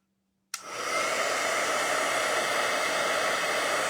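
A heat embossing tool switched on to melt embossing powder on a handmade card: after a moment of silence it starts abruptly, then blows with a loud, steady, close-up rushing whir like a hair dryer.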